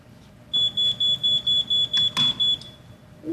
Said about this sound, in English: It can only make a loud noise when it smells smoke like this.